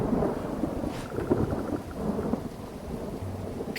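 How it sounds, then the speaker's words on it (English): Steady rain and a low rolling rumble of thunder in the Viking survival game Dead in Vinland, a continuous wet hiss over deep grumbling with no voices. "I can't believe it has literally rained this entire episode."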